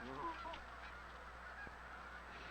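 Several geese honking in an outdoor setting, with repeated calls early on and fainter honks later, some near and some farther off, over a steady background hum.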